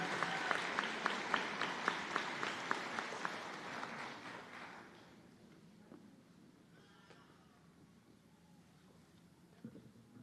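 Audience applause at a medical school white coat ceremony, a dense round of clapping that fades out by mid-clip, leaving a quiet room with faint scattered sounds.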